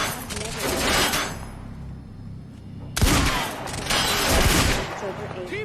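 Heavy gunfire in the Quantum Break video game: loud, dense bursts of automatic fire in two long volleys split by a short lull, with voices shouting in the mix.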